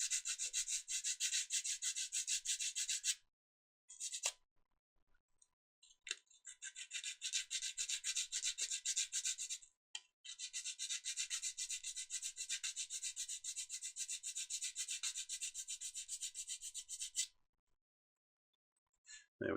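A hand file rasps a bevel onto a small model kit part in long, steady back-and-forth strokes, close and bright, broken by a few short pauses with no talking.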